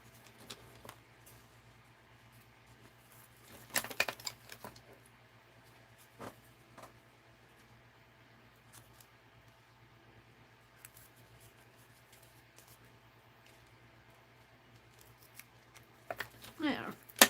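Scissors snip through paper for an art journal, a few quiet crisp cuts spread across a soft room background, with a louder cluster early on and another near the end.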